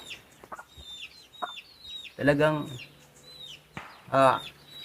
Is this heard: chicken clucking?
yes